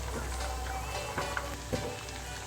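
Chicken snacks for a crunchy spicy recipe sizzle steadily in hot oil, a continuous close crackling hiss with a few brief louder pops, no voices.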